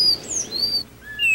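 An arapaçu (woodcreeper) calls in green vegetation near the foot of the Serra da Capivara hills, giving a few thin, high, clear whistled notes close by.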